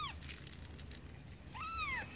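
A kitten meows twice, with a short cry at the start and a longer rising-and-falling meow near the end, fairly close over a quiet background.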